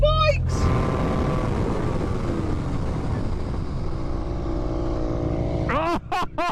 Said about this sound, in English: One emergency stop now.